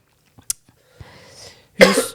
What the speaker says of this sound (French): Excusez-moi, je vais tousser.